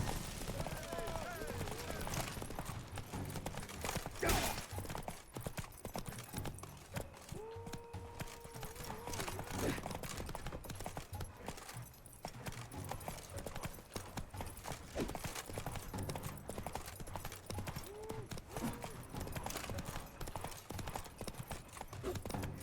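Rapid clip-clop of galloping horse hooves in The Witcher 3: Wild Hunt Blood and Wine runs throughout under game noise and clatter, with a horse whinny and someone talking over it.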